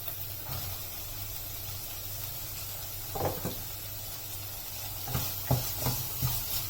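Carrots and beans being stirred and sautéed in a pan for wheat rava upma: a soft, steady sizzle with a few scattered scraping stirs of a spoon, fairly quiet, with no voices.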